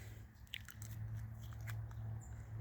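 A raw soybean, checked for harvest moisture, gets bitten in a crunch test: a few small, soft crunching clicks up close over a steady low outdoor rumble.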